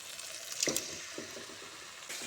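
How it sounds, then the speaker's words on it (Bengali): Ground tomato paste goes into spices frying in a pan, giving a faint, continuous sizzle with a brief splashing burst early on. "এখন দিয়ে দেবো বেটে রাখা টমেটো"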